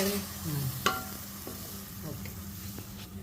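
Masala and vegetables for a vegetable salna sautéing and sizzling in a pan, with occasional stirring scrapes over a steady close frying hiss.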